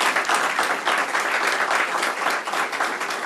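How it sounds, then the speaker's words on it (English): An audience at a county permitting department event breaks into loud, sustained applause, many hands clapping in a continuous dense roar with no break. "Can we give him a round of applause, please?"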